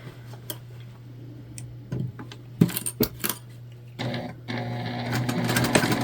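A sewing machine stitches straight across a quilted pouch, with bursts of rapid mechanical chatter over a steady low motor hum, plus scattered clicks and handling noises, close and fairly quiet.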